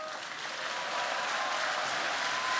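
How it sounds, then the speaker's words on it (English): Crowd in an arena at a Cybathlon competition applauds steadily, a dense even wash of clapping that holds and swells slightly for the whole stretch, heard from within the audience. "Round of applause, please, everyone here in the arena"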